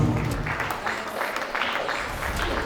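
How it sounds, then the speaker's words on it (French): Steady audience applause at a charity NGO Christmas gathering for orphans in Kinshasa, a dense continuous patter of clapping from a room full of people. "On applaudit."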